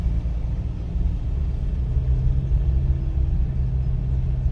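A car rolls along the dusty road shoulder during a driving test, its engine a steady low rumble close by with no pause, and no one talks.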